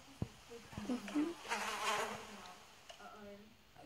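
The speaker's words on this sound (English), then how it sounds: "Is that buzzing sound?" Insect-like buzzing in a Roblox horror game, a broad droning swell that rises in the middle and fades, with faint scattered clicks around it and no talk over it.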